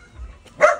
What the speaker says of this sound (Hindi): और सामने कुत्ता. कुत्ता नहीं, कुत्ते.